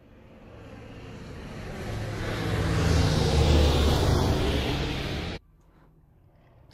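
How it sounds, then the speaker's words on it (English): A vintage biplane engine drones steadily, swelling louder toward the middle as if passing close by, then cutting off abruptly near the end, leaving quiet background. "I've got some biplane sounds"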